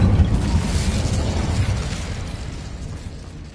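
A fire spell cast in a Harry Potter video game, a loud, rumbling whoosh of flame bursting at once and then fading steadily over a few seconds, with no talk.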